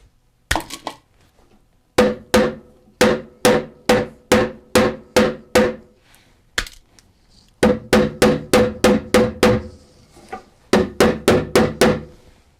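A hammer taps frets into fret slots on a guitar neck, giving sharp, loud, evenly spaced strikes. They come in quick bursts of several hits, with short pauses between the groups.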